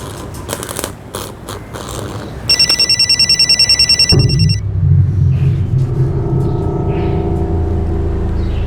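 A telephone rings in a rapid repeating bell pattern for a couple of seconds, loud and near, over a steady low rumble that continues after the ringing stops.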